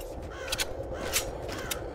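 A crow caws in The Walking Zombie 2, several harsh, rasping calls in fairly quick succession over a steady bed of game ambience.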